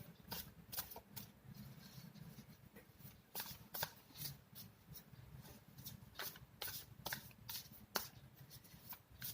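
A deck of cards is shuffled repeatedly for a yes-or-no reading, producing quiet, close riffling bursts in an uneven rhythm over a soft background; no talk.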